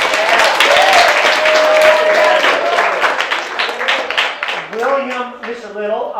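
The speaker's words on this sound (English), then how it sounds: "Give William a round of applause." Audience applause for a speaker at an additive manufacturing presentation, a few seconds of close clapping with a speaking voice over it that carries on as the clapping fades.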